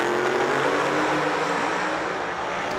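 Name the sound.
drag race cars, nitrous and ProCharger, racing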